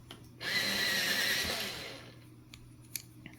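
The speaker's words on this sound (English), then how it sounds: "I am going to now sharpen the middle phthalo blue" A Polychromos colored pencil is sharpened in a small sharpener, giving a brief whirring grind of just over a second that fades out, followed by a few faint clicks.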